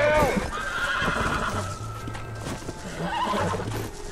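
A horse whinnies loudly in Red Dead Redemption while hooves clip-clop and shuffle nearby, a second neigh following later, with speech mixed in over the animal sounds.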